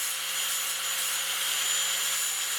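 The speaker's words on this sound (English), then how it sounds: "maybe grind some of this stuff down a little bit" A grinder works down the welds on a stainless steel motorcycle muffler bracket, giving a steady, loud, continuous hiss-like whine with no breaks, heard close up and alone.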